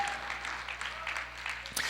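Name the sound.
applause for two young twins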